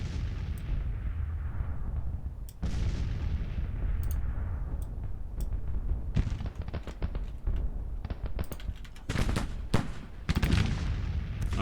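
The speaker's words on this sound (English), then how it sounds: "Our artillery's starting to engage now." Artillery booms from a Civil War battle in Grand Tactician, with deep cannon blasts rolling out at first and then a denser run of sharp, rapid reports later on, no voices over it.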